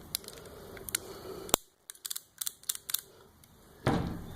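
The cylinder of an 1895 Nagant revolver being pushed in, heard as close, crisp metallic clicks and ratcheting taps with one sharp snap and a louder scrape near the end, with no speech.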